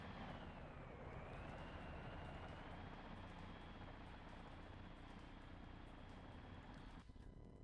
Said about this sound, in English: The stealth helicopter.